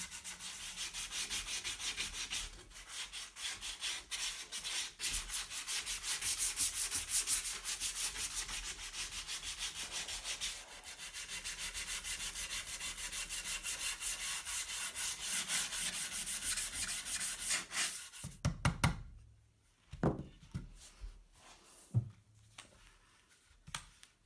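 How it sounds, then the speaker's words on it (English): Scraping blades and sanding blocks work the wooden neck volute of an acoustic guitar, a steady close-up rasping rub that runs on for many seconds, then breaks into shorter strokes and pauses near the end. "I'm using scraping blades, sanding blocks and so forth to make it nice and smooth."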